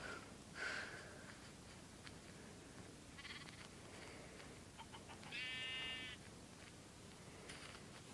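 Sheep in a video game bleat a few times against a steady low game background, one long wavering bleat standing out near the end, faint and alone without talk.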